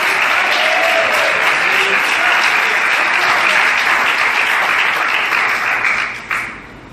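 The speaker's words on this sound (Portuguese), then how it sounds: "Então dê um aplauso ao Senhor" A church congregation applauds in a dense, loud roar of clapping that holds steady for several seconds, then dips and fades slightly near the end, with no speech over it.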